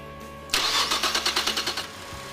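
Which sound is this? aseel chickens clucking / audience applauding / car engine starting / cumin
car engine starting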